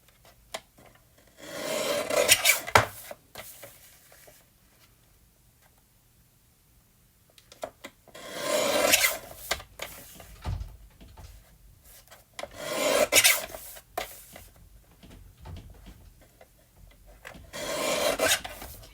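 Paper card background trimmed to 5 1/4 by 4 inches, with several rough scraping and rasping cutting strokes in separate bursts and quiet gaps between them, close and clear with no talking.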